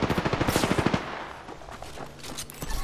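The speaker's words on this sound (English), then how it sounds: "Yeah, I'm getting shot at." Rapid automatic gunfire in Apex Legends rattles out in a loud, fast burst of shots, then trails off into quieter, scattered pops.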